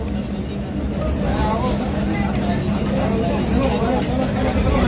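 An Aastha Special train rolls through Sahastrakund station near the waterfall in Kinwat taluka, a steady low rumble of wheels and carriages held at constant loudness, with a brief high squeal partway through.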